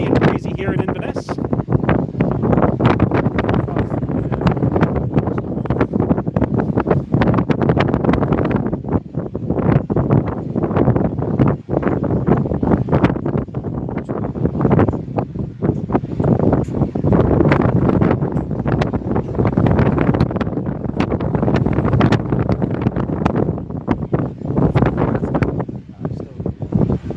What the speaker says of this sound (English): It's just very, very windy and noisy here in Inverness.